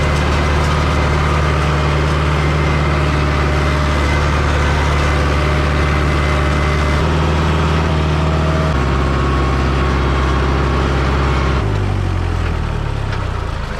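A 1982 farm tractor's engine runs close by with a steady low drone and firm harmonic hum, shifting pitch a couple of times as the revs change, with no talk over it.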